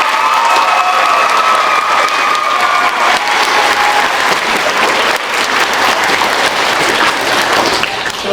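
An audience at a school awards ceremony applauds their principal, a loud, dense wash of clapping with some crowd noise that carries steadily for over eight seconds.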